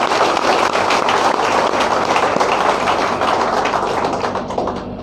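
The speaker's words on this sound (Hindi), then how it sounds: "इसीलिए जोरदार ताली बजाएगा।" A large audience claps loudly and steadily at a company gathering, dense continuous applause filling the whole stretch and easing slightly toward the end, with no talk over it.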